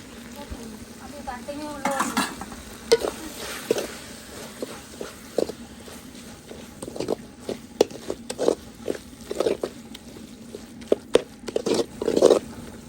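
A spoon scrapes and clinks in a pan as chili, coriander, cumin and turmeric powders are stirred into frying squid gravy, giving irregular knocks and scrapes over a low sizzle.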